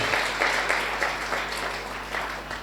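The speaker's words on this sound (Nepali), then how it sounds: "ताली बजाएर धन्यवाद दिउँ यसोलाई हामी जोडले" A church congregation claps together during a Nepali sermon, a dense, steady wash of many hands at moderate loudness that swells in brief pulses over a low hum.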